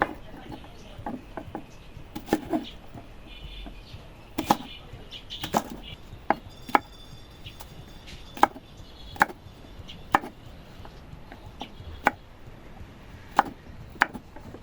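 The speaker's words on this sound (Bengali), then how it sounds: "এখন আমি ঢেঁড়সগুলো কেটে নিচ্ছি" A knife chops okra into small pieces on a cutting board, producing sharp, evenly spaced thuds over a quiet background, with faint chatter in the distance.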